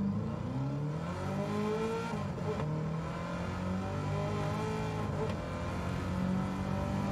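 A Chevrolet engine in Gran Turismo 7 drones steadily, its revs rising and dipping as the car is driven, a continuous close motor tone filling the whole stretch with no talk over it.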